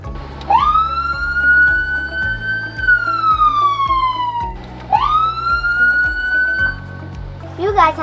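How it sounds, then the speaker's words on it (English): A loud wailing ambulance siren sweeps up and down in long rising and falling cycles, with the ambulance engine rumbling underneath and a brief pause between wails. "The lights and sirens."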